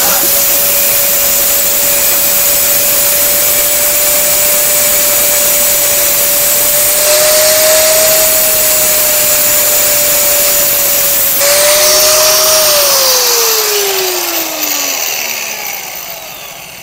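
Cutting machine with a blade sawing through a pipe in a bike mechanic's workshop, a loud steady whining drone that dips as the blade bites, then winds down as the motor slows at the end.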